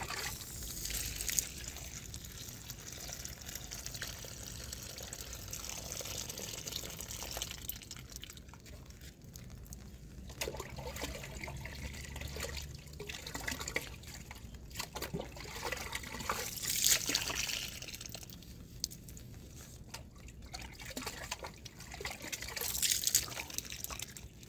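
Water flows along a drainage canal in a soft, ongoing trickle with brief splashier surges now and then, fairly faint and uninterrupted by talk.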